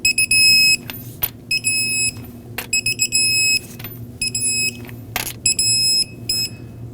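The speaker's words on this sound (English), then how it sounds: "in a cross pattern we'll torque them to 94 foot-pounds" Repeated electronic beeps from a torque wrench while wheel nuts on a 2009-2015 Honda Pilot are tightened to 94 foot-pounds, short bursts and longer tones in an uneven pattern over a low steady hum.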